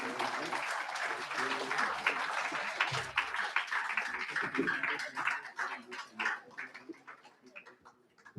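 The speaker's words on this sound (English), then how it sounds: "Can we have a huge round of applause?" Audience clapping at a live literature-and-mathematics quiz event, steady applause filling the room and gradually thinning toward the end, with some voices mixed in.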